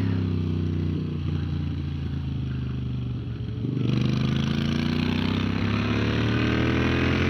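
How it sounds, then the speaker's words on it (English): A two-stroke motorcycle engine at a race circuit drones loudly and steadily, with a buzzy revving tone that dips briefly and then rises as it climbs through the gears. "there's that two-stroke, I think"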